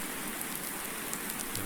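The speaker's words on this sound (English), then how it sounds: "I'm really hoping that tomorrow we get a day without rain." Steady rain falls in Farming Simulator 19, a dense, even hiss of drops with a few brighter patters, constant and fairly soft, with no voices.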